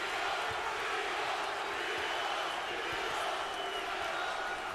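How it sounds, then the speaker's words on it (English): An arena crowd at a professional boxing match chants in a dense, continuous roar, steady and fairly distant, with faint thumps and shouts rising through the wash of noise. "Crowd is chanting Rios, Rios early."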